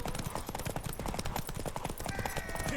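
Horse hooves clatter in a steady rapid galloping rhythm in The Witcher 3, close and continuous, with a brief whinny-like tone near the end.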